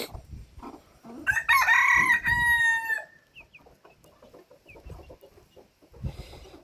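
A Pekin bantam rooster lets out one loud, close crow lasting about two seconds, followed by softer clucks and faint farmyard noises.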